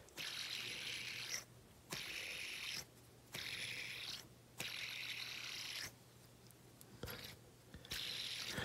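A Fidget HQ tungsten fidget spinner whirs on its bearing in repeated spins, faint and close, each burst a steady bright whirring hum that cuts off abruptly before starting again, with quiet gaps between.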